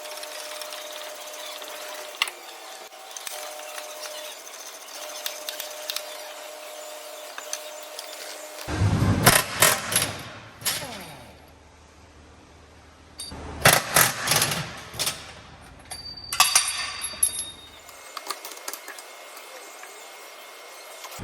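12-point hex bolts on a Tomei limited-slip differential in an MK4 Supra are broken loose in short bursts of rapid clicking and ratcheting. Quiet spells fall between two or three separate flurries.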